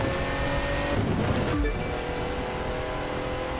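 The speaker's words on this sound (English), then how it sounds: "the sound of this car is just gorgeous" A car engine in the video game The Crew 2 roars loudly and continuously, revving and surging briefly before settling into a steady drone.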